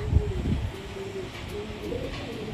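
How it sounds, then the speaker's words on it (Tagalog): An injured pigeon with a punctured main bone gives a soft, low cooing at close range, one drawn-out call followed by quieter murmurs. "Ibon."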